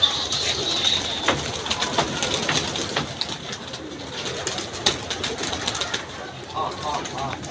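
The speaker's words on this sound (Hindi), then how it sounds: "हमने कबूतर छोड़ना वसीम भाई" Pigeons coo softly amid a busy flutter of wings and scuffling, with people talking nearby over the birds.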